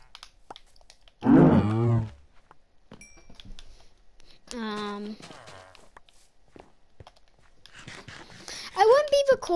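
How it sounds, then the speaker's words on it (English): Cows in the video game Minecraft Skyblock give a few separate drawn-out moos, close and fairly loud, spaced apart with quiet game sounds and light clicking in between. "Kill cows!"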